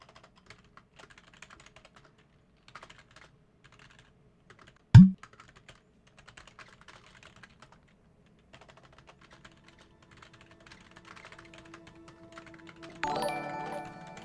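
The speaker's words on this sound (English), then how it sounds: "I'm typing it." Soft, sparse computer keyboard typing comes in scattered bursts of quiet key taps, with one sharp loud knock partway through and a denser clatter of keys near the end.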